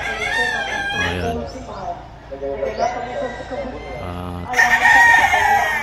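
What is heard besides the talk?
roosters crowing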